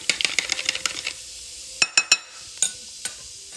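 Strawberries are swished around in a bowl of water, with a quick run of soft splashy clicks followed by a few sharp, separate knocks against the container, close and fairly quiet.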